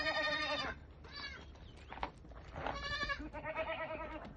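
A goat bleats loudly several times, wavering calls close by, separated by brief quieter gaps.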